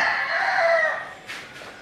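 A prized rooster crows once, close and loud, in a single drawn-out call that fades, followed by a brief softer vocal tail.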